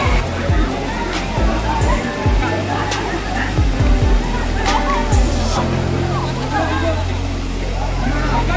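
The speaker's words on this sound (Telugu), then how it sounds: "water falls కొట్టుతున్నాయి" A waterfall crashes in a continuous loud roar of pouring water, with faint voices and brief knocks mixed in.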